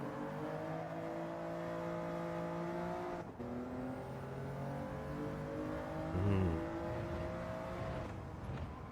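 A race car in the Gran Turismo 7 video game, its engine droning steadily at high revs, dipping briefly as the throttle lifts and then climbing again, with a short burst of tire or braking noise; no talk.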